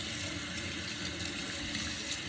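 Tap water runs in a steady, unbroken rush into a sink while a girl's hair, worn in six loose braids, is about to be washed; the flow is close and even, with no talk over it.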